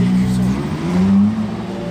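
A Ferrari Daytona SP3 fitted with a straight, unrestricted exhaust revs loudly and close by, its engine note rising and falling in a steady deep drone.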